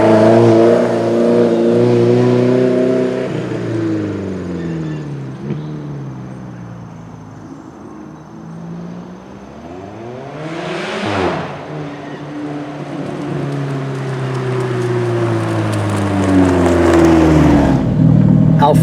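Alfa Romeo 4C Spider driven fast with the top down, its engine loudly revving up through several gears with shift breaks and a sharp rev blip, heard close with wind rush and occasional speech.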